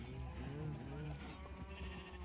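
Red sheep in Minecraft bleat in a wavering, layered chorus of several overlapping cries, steady and fairly close throughout.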